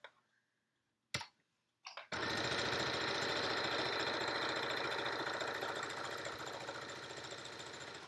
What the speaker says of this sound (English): So I will just sew right here, like where the surged end is